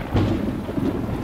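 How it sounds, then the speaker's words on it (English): Thunder in the video game The Talos Principle, a short, deep rumble swelling near the start and again briefly later, layered over steady falling rain, with no voices. "Oh, and there's thunder."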